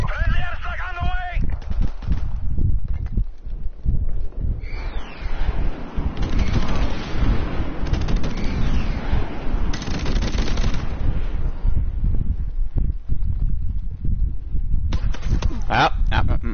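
Call of Duty Modern Warfare Remastered match with loud bursts of rapid automatic gunfire and heavy blasts from an airstrike, dense and continuous across the scene, with game voice callouts mixed in.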